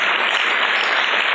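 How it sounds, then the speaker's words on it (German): Audience applause inside a church hall, a dense, steady wash of many hands clapping throughout, loud and close with no voices over it. "das ist ein Applaus wert"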